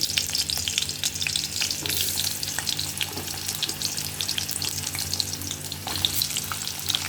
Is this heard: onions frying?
yes